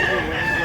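A rooster crows at close range, a single loud, tonal call sustained through the brief moment, with a faint murmur of people in the background.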